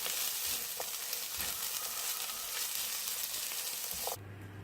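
Pepper frying in a pan gives a steady, close sizzle with light stirring, running evenly with no voices until it cuts off just before the end.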